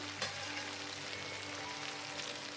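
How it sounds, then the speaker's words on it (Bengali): An egg fries with spices in a pan for a chickpea-lentil egg dish, a soft, even sizzling hiss at low volume, with one faint tick near the start. "এই মশলার সাথে এটা ভাজা হতে থাকবে"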